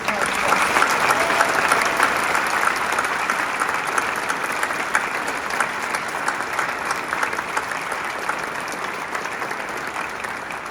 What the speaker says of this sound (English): Let's give all a hand clap.